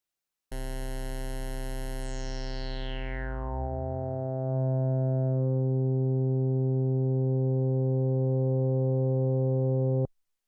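An Arturia PolyBrute synthesizer, its Steiner high-pass filter routed in series into the ladder low-pass at high resonance, sustains a bright harmonic tone that sweeps downward and settles into a steady resonant formant-like drone.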